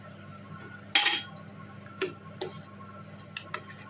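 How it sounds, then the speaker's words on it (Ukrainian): Hand-torn dumplings dropped one at a time into a pot: one clear wet plop and splash, then a few faint drips and small taps against a quiet background hum. "тепер буду їх висипати у нашу каструльку. По одному висипаю, тому щоб не злиплися"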